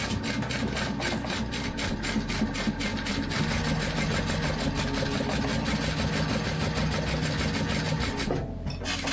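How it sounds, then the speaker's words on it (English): A sewing machine stitches along the side of a custom blue badge cover, its needle clattering in a fast, regular mechanical rhythm close up, pausing briefly near the end. "And then we'll just sew along the other side as well."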